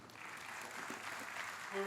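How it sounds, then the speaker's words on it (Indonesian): Audience applause at a Perindo party political convention, a soft steady patter of clapping from a crowd, fairly distant and even throughout. "Boleh tepuk tangan yang meriah sekali lagi para hadirin."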